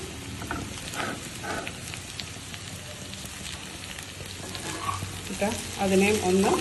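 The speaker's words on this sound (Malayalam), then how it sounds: "ഞാനിപ്പോൾ ഇതിനകത്ത് യൂസ് ചെയ്യുന്നത് ബ്രൊക്കോളിയും മഷ്റൂമുമാണ്. അത് നമുക്ക് ഇട്ട് കൊടുക്കാം." Broccoli and mushrooms fry in a pan for Thai basil chicken with a steady, close sizzle that swells and crackles louder toward the end as the vegetables hit the hot oil.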